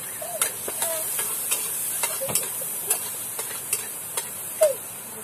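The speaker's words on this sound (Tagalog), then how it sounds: "Ginigisa ko lang muna" Onion and garlic sauté in a pan for vegetables, a steady soft sizzle broken by the clicks and scrapes of stirring, heard close with no talk.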